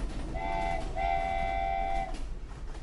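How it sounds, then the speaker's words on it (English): A toy train gives a two-part electronic horn toot, a short note then a longer held one, fairly close and alone over a low background hum. "The train is fully loaded and ready to go."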